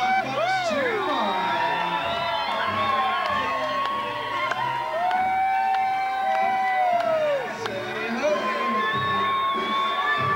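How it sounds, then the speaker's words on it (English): Family members cheering and whooping at a home gathering, high shouts and excited cries rising and falling over lively chatter for the full stretch. "Cheer on, folks. Cheer on."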